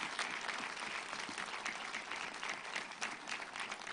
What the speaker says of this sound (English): Can we give them a warm hand clap, ladies and gentlemen?